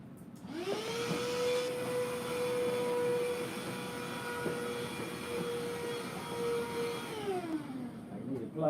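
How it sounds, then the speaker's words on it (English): A household vacuum cleaner in a home studio workspace runs steadily and close, a sustained whine with rising spin-up at the start and winding down near the end, with faint voice underneath. "Vacuum."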